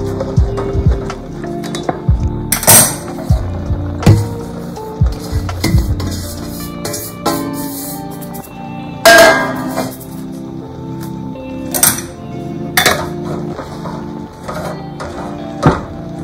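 A spoon clatters and scrapes against a pot while rice flour is stirred into water for bhakri dough: loud, irregular metallic knocks and rattles, close up, with no talk.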